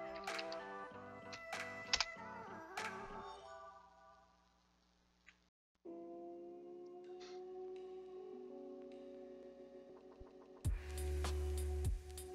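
Keys clatter on a computer keyboard in quick irregular bursts of taps, close and quiet, with a pause partway through before a few more keystrokes.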